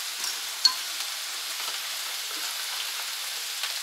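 Tikka masala spice being stirred into onions frying in a pan, giving a soft, steady sizzle with faint scraping and one brief sharp tap near the start.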